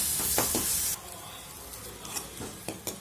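Idli pieces frying in hot oil give a loud, bright sizzle for about a second, then a softer steady crackle with occasional spoon scrapes and taps close by.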